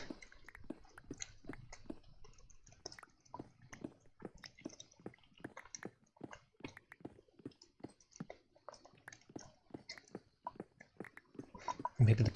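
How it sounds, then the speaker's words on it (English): Soft, close, wet chewing of chocolate repeats in a steady rhythm, faint and mouthy throughout. "Guess you can hear the chewing."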